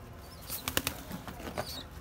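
Young breeding birds flutter their wings inside a cage, making soft, quick flapping bursts clustered in the middle of a short, faint stretch with a light background hum.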